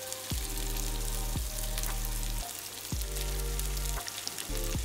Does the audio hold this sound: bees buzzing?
no